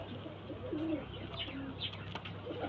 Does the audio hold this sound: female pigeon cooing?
yes